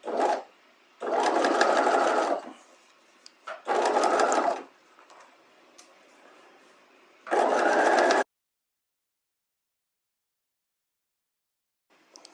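A sewing machine stitches bias facing onto a bodice neckline in three short runs of steady close buzzing, separated by brief pauses and handling noises, then silence.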